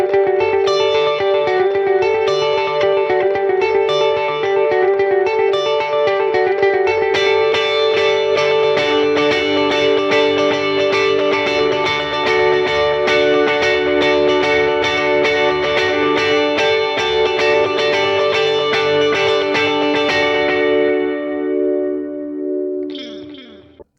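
A clean electric guitar plays a rhythmic pattern through a delay pedal set to dotted eighth notes, in the style of U2's The Edge, with repeating echoes cascading after each note, loud and steady, then fading out at the end.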